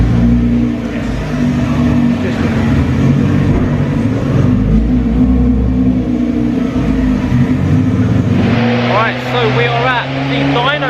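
A Nissan GT-R R35 fitted with an Armytrix Valvetronic exhaust revs steadily at close range, a loud continuous engine drone that climbs in pitch near the end as the throttle rises.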